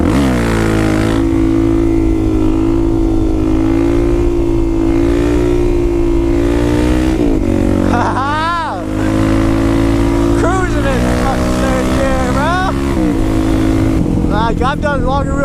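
A Suzuki DRZ dirt bike engine roars at a sustained high rev through a wheelie, loud and close, with the pitch dipping and climbing in repeated throttle swells; someone talks over it at points.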